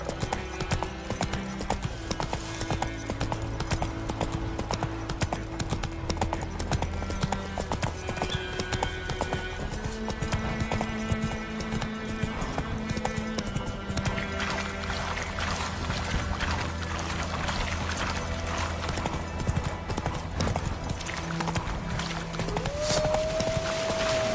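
Horse hooves clip-clop in a steady trotting rhythm in The Witcher 3, clear and continuous over a layered game music and ambience bed, with a brief rising tone near the end.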